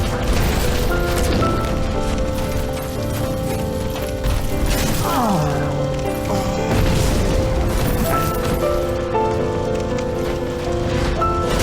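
Booming explosions and crashing impacts in a video game boss fight against Manus, loud and continuous over a dense bed of game music and clanking mechanical effects.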